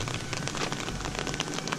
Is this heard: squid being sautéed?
no